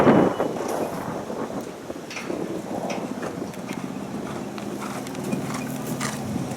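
Horse hooves thud over a show jumping course during a lesson, a steady soft rhythm under wind noise at moderate distance.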